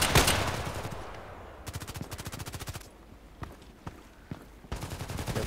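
Bursts of automatic gunfire in the online shooter Contract Wars: a loud shot at the start, then rapid repeated volleys with gaps and a few scattered single shots, fairly close.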